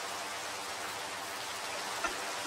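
Steady rain falls in the blocky survival game Minecraft, a continuous even hiss with one brief soft knock near the end and no talking.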